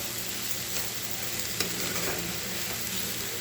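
A pan of moringa leaf and egg podimas is stirred as it fries, giving a steady close sizzle with faint scraping and one brief clink of the utensil.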